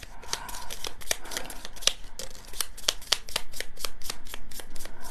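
Quick crackling riffle of playing cards being shuffled, a run of sharp clicks repeating in bursts, close up and fairly quiet, with no talking.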